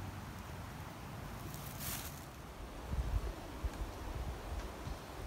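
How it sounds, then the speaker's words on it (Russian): Steady wind rushes softly through a forest, a low continuous roar with a few gusty bumps and no voices or birdsong. "Птицы не поют, только ветер шумит."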